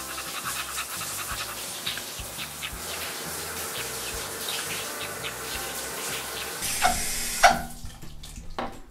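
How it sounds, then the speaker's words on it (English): Running water rinsing two puppies, one a Golden Retriever, in a bath during a pet vet visit; a steady, fairly close wash of spray runs throughout, with a couple of louder splashes near the end and no talk. "Let's give them both a rinse."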